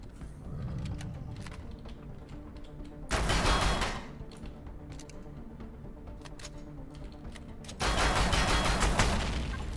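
A gun turret firing in Empyrion inside a Zirax base, with a steady rattle of shots and two louder, denser bursts, and no voices.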